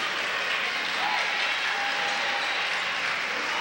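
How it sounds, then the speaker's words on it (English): Sustained applause from the home crowd at a boys high school basketball game, Spring Lake Park vs Benilde-St. Margaret's at Benilde, a dense, steady clapping wash that holds at an even level throughout. "Get a nice round of applause."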